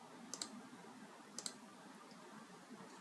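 Two quick double clicks of a computer mouse selecting a folder, crisp and close, spaced about a second apart over faint room hiss.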